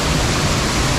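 Loud, dense roar of a high-pressure waterfall pouring into a cave, a steady broadband rush with no pauses or voices.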